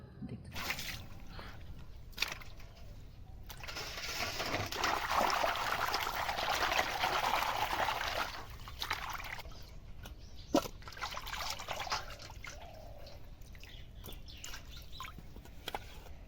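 Fish being washed in water by hand in a home kitchen, with splashing and trickling that swells for several seconds and then settles into lighter drips and handling noises, close by and with no talk.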